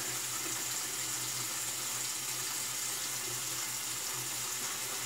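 Water runs steadily from a tap while a Merkur Progress safety razor is rinsed beneath it, a constant close rushing hiss with no speech.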